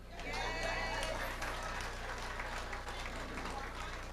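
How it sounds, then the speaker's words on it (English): An audience claps during a 1994 Caribbean stand-up comedy show, making a steady, moderately distant patter that holds for several seconds under a faint crowd murmur. "You're supposed to clap for that."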